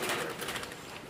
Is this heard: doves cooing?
yes